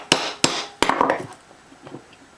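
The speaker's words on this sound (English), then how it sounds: "I'm going to tap this really hard to break it loose" The carburetor of a 1948 Massey Harris Pony tractor struck hard to loosen it: three sharp, close knocks in quick succession, followed by a few softer rattling taps.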